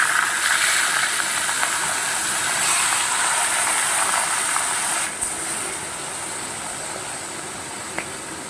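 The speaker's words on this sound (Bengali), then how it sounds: "এবার আমি সেই মাথাটা ভেজে নিই।" A catla fish head frying in hot oil in a pan, a steady bright sizzle and crackle that holds at an even level throughout, close up and with no voices.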